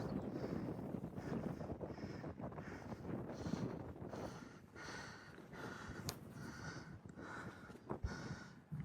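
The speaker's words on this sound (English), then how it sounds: "A little bit windy up here." Wind buffets the microphone on a foggy hilltop near a tower, a continuous rough rumble with gusts swelling and easing throughout.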